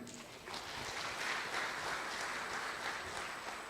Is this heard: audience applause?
yes